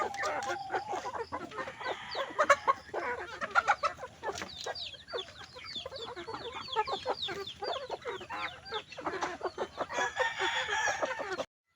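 Chickens cluck and squawk continuously on an organically fed poultry farm, with roosters crowing among them, a dense busy flock sound close by.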